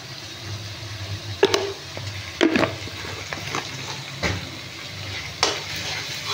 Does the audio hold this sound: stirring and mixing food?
yes